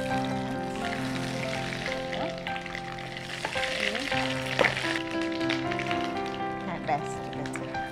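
Garlic paste hits hot oil with bay leaves, cinnamon and cardamom for a Bengali almond korma, giving a steady close sizzle with stirring scrapes, under intermittent speech.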